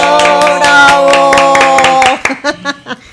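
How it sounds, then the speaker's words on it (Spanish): A studio audience applauds a guest on a talk show, with brisk, loud clapping over a bright musical jingle that gives way to scattered claps at the end. "¡Aplausos! ¡Bravo!"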